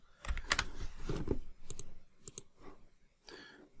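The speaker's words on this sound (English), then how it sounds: "Typing too quick for my own good." Quick bursts of keyboard typing, sharp clicky keystrokes in clusters with short pauses between, close and fairly quiet.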